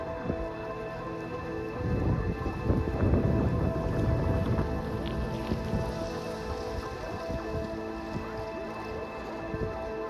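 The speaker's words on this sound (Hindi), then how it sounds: "बारिश जो है वो पहले से थोड़ी तेज़ हो गई है" Steady rain falling on a mountain route on the Annapurna circuit while bikepacking, a dense close patter and hiss that thickens for a few seconds, then continues evenly with no talk.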